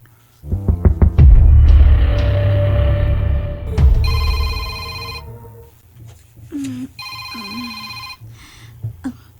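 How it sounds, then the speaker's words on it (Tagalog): A cellphone rings with a repeating electronic tone in short bursts, heard in a tense drama scene. A loud low throbbing rumble runs underneath at first, then the rings carry on more clearly. "RJ, imong cellphone ni ring."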